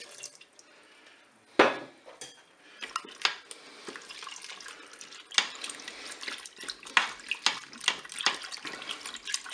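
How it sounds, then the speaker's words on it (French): Milk poured into the bowl of a Cookeo multicooker for rice pudding, a soft irregular liquid splashing and trickling with scattered drips and small knocks, fairly close and quiet. "Je vais ajouter dans la cuve le lait, les 500 ml de lait."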